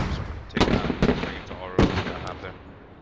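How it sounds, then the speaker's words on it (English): Artillery barrage in the video game Squad, three sharp booming impacts spaced under a second apart, mid-distance, over low rumble with faint voices. "Setting a counter artillery barrage."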